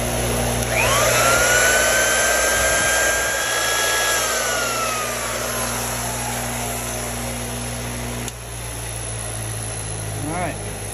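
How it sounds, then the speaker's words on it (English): An old 1934 U.S. Tool Company Commander electric drill runs loudly and steadily with a high whine and rushing air like a vacuum cleaner, its pitch sweeping down as it slows, then a click and continued hum. "This drill sounds like a vacuum cleaner. It's very loud."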